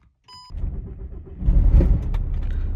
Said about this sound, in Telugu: చూసారుగా, కార్ స్టార్ట్ అయిపోయింది